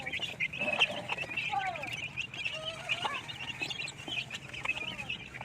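A flock of one-month-old native chicken chicks peeps repeatedly nearby, with high, falling chirps overlapping one another over soft background clucks and farm noise.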